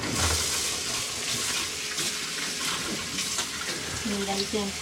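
Hot water runs steadily from a tap on a boat, fed by a 1360-watt water heater, with a constant splashing hiss, while a voice speaks briefly over it near the end.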